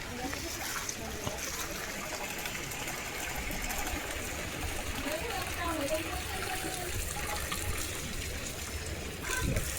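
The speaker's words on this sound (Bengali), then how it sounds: "এদিকে আমি বোতল ভরছি, বাবা দেখো ট্যাঙ্কিতে জল ভরছে।" Water runs steadily as a tank and bottles are filled at home, a continuous close trickle and splash that holds level throughout, with a person talking over it.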